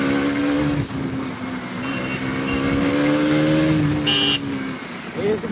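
A Bajaj Pulsar NS400Z motorcycle engine revving while racing alongside a Duke, its rising and falling roar steady and loud up close, with wind rush and a brief sharp burst near the end.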